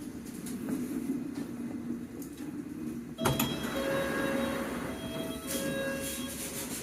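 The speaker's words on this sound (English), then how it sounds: "This here is a fast Metropolitan line train to Amersham." Fast Metropolitan line train to Amersham running on the London Underground, a faint steady rumble of wheels with a sharp clank midway followed by thin high wheel squeal.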